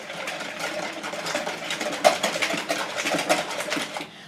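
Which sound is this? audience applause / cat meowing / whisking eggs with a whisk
whisking eggs with a whisk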